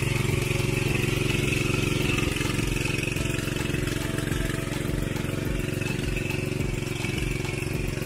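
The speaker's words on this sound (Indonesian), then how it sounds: "ini adalah tiler FTL 500H yang didemokan oleh tim kita" A Firman FTL 500H tiller engine runs at an agricultural expo demo area, a steady, loud, close mechanical chug with a constant fast pulsing rhythm and no clear pauses.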